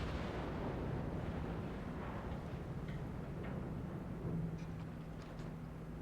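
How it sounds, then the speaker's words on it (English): A ship explodes in the World of Warships naval battle game, a deep rumbling blast and roar that fills the whole stretch, with faint higher crackles and pops scattered over it and no talking. "there's the kaboom"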